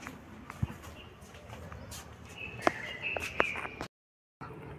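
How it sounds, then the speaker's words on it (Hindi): Morning birds call around a rooftop water tank and potted plants: soft pigeon or dove coos and a few sharp chirps over a quiet background, moderately distant, with a brief dropout near the end. "सुबह सुबह चिड़िया की बहुत आवाज आती है,"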